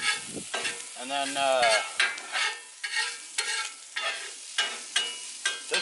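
Onions cook on low heat on a flat-top griddle, giving a soft sizzle punctuated by regular scraping taps, while a voice speaks briefly near the start.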